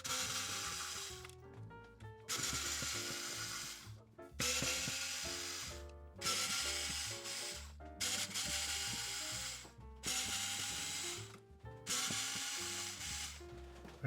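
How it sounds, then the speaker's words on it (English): Electric screwdriver backing out the seven screws holding the circuit board inside a JBL Tuner 2 speaker, a series of loud mechanical ratcheting whirs in regular bursts with short pauses between screws. "we'll just use our trusty electric screwdriver as normal"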